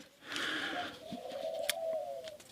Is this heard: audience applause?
no